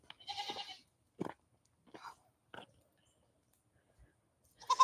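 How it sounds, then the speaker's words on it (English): Goats bleat several times in short, separate calls with quiet gaps between, fairly close, with one louder bleat at the end. "sorry guys, my goats."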